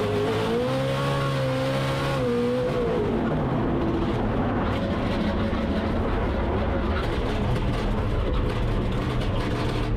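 A Formula Drift car driven by James Deane on a practice run at media day roars loudly, its engine note rising and falling before settling into a sustained, harsh drone.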